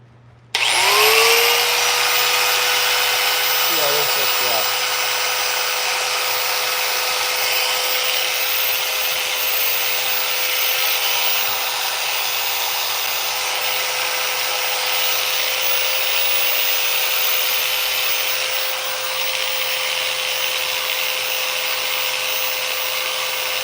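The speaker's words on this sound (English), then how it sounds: "But I could chainsaw carve" A chainsaw runs steadily and loudly for the whole stretch, carving a wood sculpture of Minecraft Steve, its high engine whine holding a constant pitch with slight load changes as it bites into the wood.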